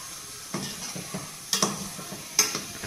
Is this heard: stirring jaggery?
yes